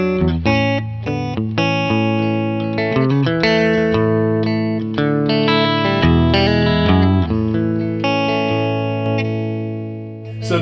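A clean electric guitar through a '65 Deluxe Reverb amp model plays chords and melodic runs, bright and dry with no reverb, steady and fairly loud throughout.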